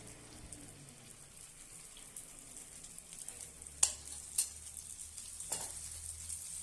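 Sweet white sorghum paniyaram cook in oil in a pan, a faint, steady sizzle and crackle with a few sharp clicks from a utensil partway through, fairly quiet and close.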